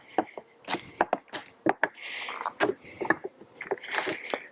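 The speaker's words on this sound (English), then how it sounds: "We remove the rods that keep the rings together, and then we just quickly separate the rings." Wooden rings of a bee barrel hive pulled apart after the holding rods come out, a run of sharp wooden knocks, clacks and scraping thuds at close range with some quiet talk.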